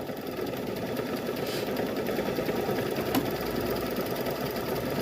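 A sewing machine stitches a wacky patchwork gnome quilt in a rapid, steady mechanical chatter that runs unbroken at moderate loudness, with no voices over it.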